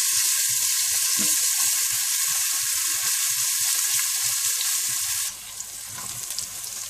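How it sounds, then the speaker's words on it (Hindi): Steady, loud sizzling of crushed garlic frying in hot oil with crackling pops, easing to a quieter sizzle near the end. "और इसमें आप 2 टेबलस्पून कुटा हुआ लहसुन डाल दें और थोड़ा सा भून दें।"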